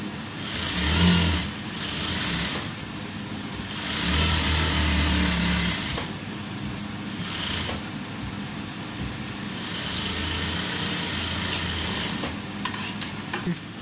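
A sewing machine runs the side seam of a gathered top in several sustained whirring bursts, stopping and starting with short pauses between stitching runs, close and fairly loud.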